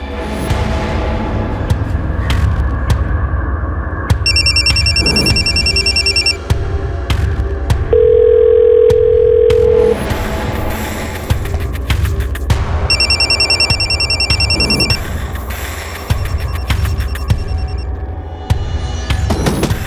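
An unanswered phone keeps ringing in a house, its bright electronic ring coming in repeated bursts over a loud, steady background hum and tones, with no voices.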